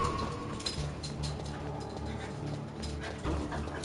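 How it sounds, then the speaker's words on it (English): Dogs in the stealth game Metal Gear Solid bark and whimper faintly at a distance, with short yips and whines recurring over a low background hum. "Oh god, my dogs are angry."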